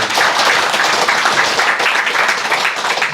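Audience at a Korean meditation lecture in Damyang claps in a loud, steady burst of applause, close and continuous for a few seconds.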